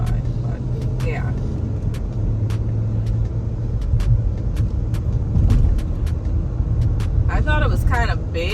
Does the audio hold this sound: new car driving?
yes